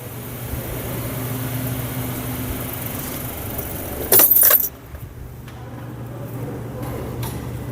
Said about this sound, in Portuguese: Deixa eu desligar o carro.